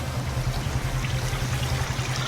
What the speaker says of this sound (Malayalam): വെള്ളം ഇങ്ങനെ ഒഴുകി നേരെ താഴേക്ക് ഒഴുകി പോകും.